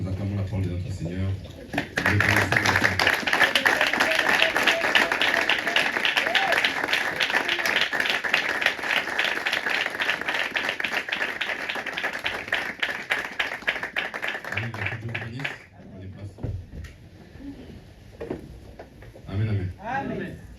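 A church congregation at a French-language Sunday service bursts into sustained, rhythmic clapping and acclamation for about thirteen seconds, loud and dense, with voices speaking briefly before and after.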